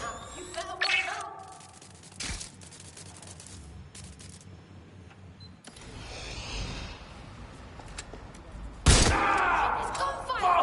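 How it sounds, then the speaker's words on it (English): Bursts of gunfire crack out amid a busy, mechanical soundscape in the video game Watch Dogs: Legion, with a loud volley near the end. "It's gunfire!"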